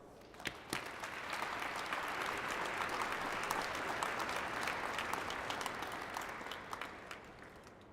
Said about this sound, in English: Can we please have a big round of applause for our sponsors?